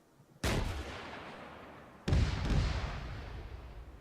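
During squad training, a shoulder-fired rocket launches with a loud boom, and a second heavy blast follows about a second and a half later as it hits the target, each trailing off in a long rumble.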